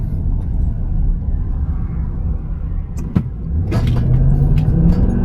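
A pickup truck engine runs with a deep steady rumble, close and loud, and the pitch rises toward the end as it revs or picks up speed, with a couple of faint clicks and no talking.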